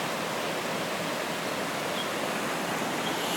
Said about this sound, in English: this creek is massive.